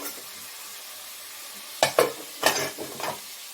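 Meat cooks with spices in a pot over a quiet background sizzle. A few loud stirring scrapes of a utensil against the pot cluster near the end.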